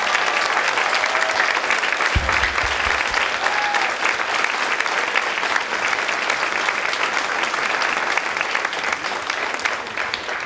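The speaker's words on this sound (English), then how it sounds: "So I would ask that everybody give a great round of applause to Ms. Buckout." Sustained audience applause at a school drama club performance, steady dense clapping throughout with a brief low thump early on.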